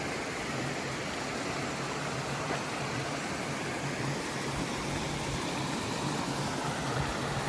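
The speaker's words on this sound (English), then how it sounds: "Now I got our first real water crossing of the day" A stream crossing on the Appalachian Trail gives a steady, broad rush of flowing water that holds an even level throughout, with no voices.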